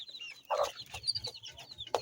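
Turkish Shamo chicks clucking and peeping close by, a few short soft calls scattered over a quiet background.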